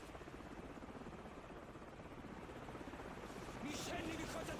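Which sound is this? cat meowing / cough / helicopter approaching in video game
helicopter approaching in video game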